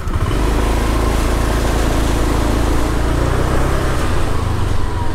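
A motorbike engine drones loudly and steadily while riding a road outside Chiang Mai, with a constant low rumble and rushing wind close to the microphone.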